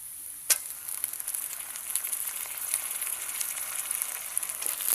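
Meat added to fried onions sizzles loudly in a pan, a sharp clack at the start followed by continuous bright crackling and spattering close up.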